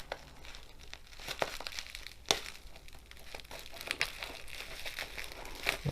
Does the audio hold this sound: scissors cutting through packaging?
yes